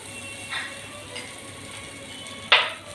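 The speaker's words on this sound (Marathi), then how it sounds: "थोडंसं आपण त्याच्यावरती बटर टाकूया" Butter sizzles quietly in a pan over a low gas flame, with a steady faint hiss and a few soft clinks of a utensil, the last one sharper and louder.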